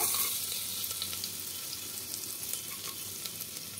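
Chopped garlic frying in oil and butter for chicken soup, a steady bright sizzle that starts strong and settles slightly while being stirred, close and fairly soft, with no voices.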